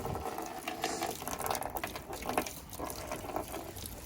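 Water poured from a container onto freshly planted garlic in a home garden, a steady splashing trickle close by that keeps going for a few seconds with no talk.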